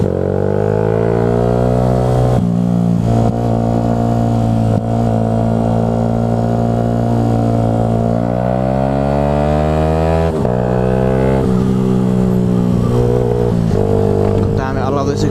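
A car's exhaust growls loudly and continuously, the engine note rising and falling as it revs, with harmonic droning throughout.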